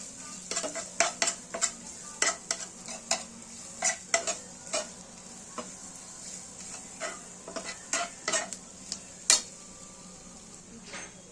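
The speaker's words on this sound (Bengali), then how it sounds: "এই আমগুলো দিয়ে মশলার সাথে আমরা মিশিয়ে নেব" Grated raw mango is stirred and fried with spices in a pan, with a soft sizzle underneath and a long series of sharp spatula scrapes and clinks against the metal at an uneven, busy rhythm.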